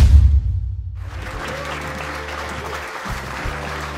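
Enthusiastic applause from a crowd of officers greeting Hudson's team at a police station in a film, a steady wash of clapping that runs unbroken for several seconds after a brief low rumble at the start.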